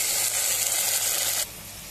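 Lentils (dal) tipped into fried onion, garlic and chilli in a pressure cooker hiss and sizzle sharply and steadily for over a second, then drop to a quieter simmer.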